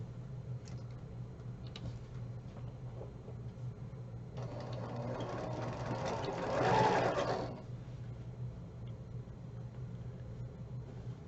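A sewing machine stitches quilt fabric pieces together in a quiet room, a soft steady run that swells louder for a few seconds in the middle before easing back.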